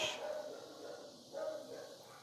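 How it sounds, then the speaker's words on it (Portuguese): Neighborhood dogs bark in the distance, a few faint, muffled barks rising and falling over a steady room hiss, with one somewhat stronger bark near the end. "Até os cachorros aqui da vizinhança, não sei se você está ouvindo, estão dando glória."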